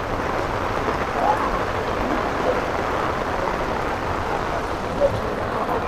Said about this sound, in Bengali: বৃষ্টি দের খুব বেশি বৃষ্টি দের